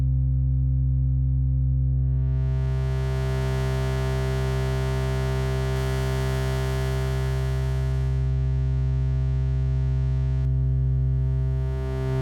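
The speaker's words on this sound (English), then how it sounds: "Load up a sine wave and start adding harmonics with wave shapers." A sustained synth tone from Avenger 2.0 starts as a pure sine with a deep steady hum, then swells brighter and buzzier as wave shapers add harmonics, holding continuously and loud.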